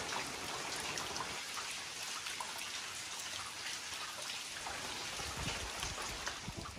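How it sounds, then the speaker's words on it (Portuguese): Steady rain falling outdoors on a rural smallholding, a dense, even hiss of drops with a faint trickle, continuous and fairly quiet throughout with no voices. "um minutinho de sol e chuva de novo"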